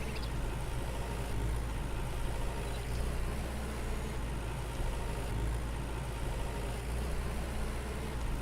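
A tractor engine in the farming video game Farmer's Dynasty drones steadily at a low, even idle, a constant mechanical hum with no talk over it.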